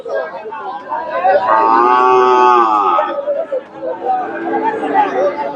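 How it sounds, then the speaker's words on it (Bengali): A Friesian cross bull gives a long, loud, drawn-out moo close by at a cattle market, followed by a shorter lowing call, with people chattering in the background. "এখানে সুন্দর একটা সার গরু দেখতেছি ফ্রিজিয়ান ক্রস"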